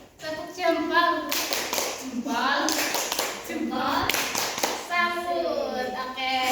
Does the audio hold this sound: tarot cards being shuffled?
no